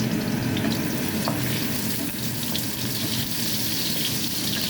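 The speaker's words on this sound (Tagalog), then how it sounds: "parang piniprito ng konti sa mantika ng baboy" Steady frying sizzle of potatoes in pork lard with a constant crackling hiss, close and fairly loud throughout, with faint stirring clinks and no voices.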